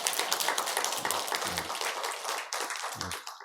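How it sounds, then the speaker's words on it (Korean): A church congregation claps in a short burst of scattered, uneven hand claps, moderately loud and fading in and out, heard alone without speech. "박수 한번 쳐주세요."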